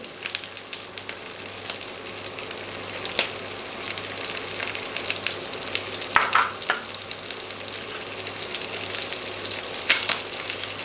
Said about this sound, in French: on attend de bien faire dorer les morceaux